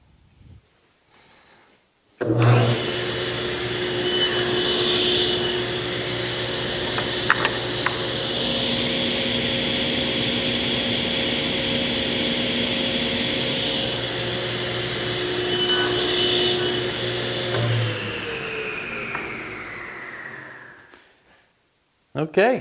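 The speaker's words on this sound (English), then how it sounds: "raise the blade up to the height that I want. And we'll go ahead and run these pieces through." A table saw runs steadily for about twenty seconds as wood pieces are pushed through on a sled jig to cut tenons, the loud whine holding under brief cutting surges before the blade spins down.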